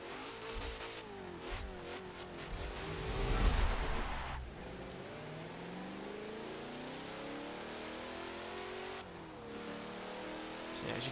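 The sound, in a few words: Corvette engine accelerating in video game Forza Motorsport 7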